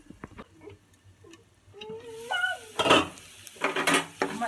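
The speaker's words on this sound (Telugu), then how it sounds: "మధ్యలో ఇలా కలుపుతూ ఉండాలండి," A utensil stirs bitter gourd and onions frying in a pan, giving soft clinks and scrapes that grow into busier, louder scraping over a faint background.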